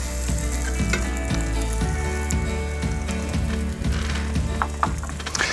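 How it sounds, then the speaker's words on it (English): Close, continuous sizzling of a Monte Cristo sandwich frying in a pan, with light crackles and a low hum underneath; no speech. "once, of course, it's been frying for a short while"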